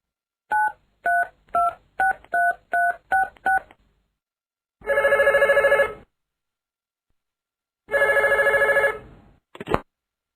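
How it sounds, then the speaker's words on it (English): A telephone keypad beeps out a quick series of dial tones, then two long, loud electronic rings follow with a pause between them, with no voices. "The next day, Mrs. Crane telephones Mr. Fox."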